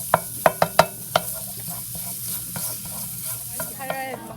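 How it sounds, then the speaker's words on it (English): Minced garlic roasting in hot ghee for Egyptian koshari, with sharp spoon clinks against the pot at the start over a continuous close sizzle, then quieter stirring scrapes, no talking. "So we're starting with the roasting the garlic."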